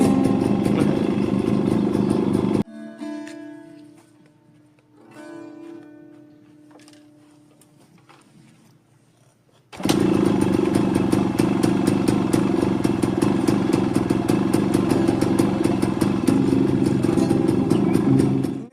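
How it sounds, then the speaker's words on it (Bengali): A motorcycle engine runs loud and steady with a rough clattering idle, cutting out for several seconds of quieter sound before starting back up just as strongly. "সেম স্কেলে বাজতেছে মোটর সাইকেল।"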